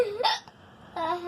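A person with a bout of hiccups, two sharp vocal hiccups close to the microphone about three quarters of a second apart, with quiet between them.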